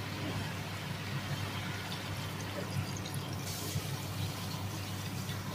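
Water is added to pork cooking in a pan, producing a steady, soft pouring and sizzling wash with a low hum underneath, continuous and fairly faint, with no voices over it.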